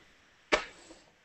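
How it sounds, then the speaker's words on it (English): A chair bumps against a wall in a single sharp, woody knock, close and fairly loud, followed by a faint small rattle in an otherwise quiet room. "that was my chair going against the wall."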